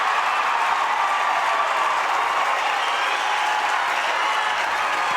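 Home crowd at a Creighton Blue Jays men's soccer match against Cal State Northridge cheers and applauds a game-winning goal, a dense, steady roar of clapping and shouting that holds at full strength without letting up.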